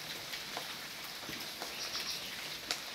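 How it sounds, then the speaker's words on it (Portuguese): Fine, light rain falls steadily on a farm, a soft continuous hiss with scattered faint drips and patters, even in level throughout, with no voices. "é aquela chuvinha fininha, mas que molha bastante a terra"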